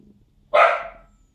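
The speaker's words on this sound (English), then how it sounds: "bloody dog." A single loud dog bark rings out close by in a quiet room, one sharp burst that trails off over about half a second, alone with no talk over it.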